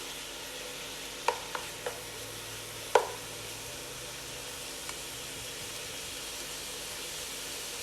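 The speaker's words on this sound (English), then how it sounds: "Meanwhile, the meat is cooking and browning." Meat and bacon frying and browning in a pan make a quiet, steady sizzle, broken by a few sharp utensil taps near the start.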